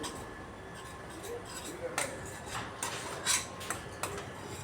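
Ground spice paste fries in a pan while a utensil stirs and scrapes it, producing repeated metallic scrapes and clinks over a low sizzle, close by, with a voice talking underneath.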